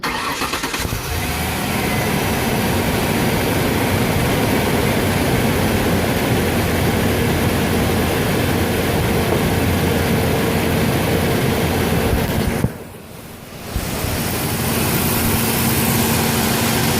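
A truck engine cranks and catches, then idles loudly and steadily close up for the rest of the stretch, with a brief dropout near the end.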